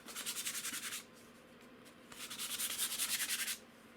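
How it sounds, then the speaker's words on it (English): Quick back-and-forth sanding strokes rasp against a painted surface in two bursts, separated by a brief pause, close and fairly soft. "rough up that paint just a little bit more"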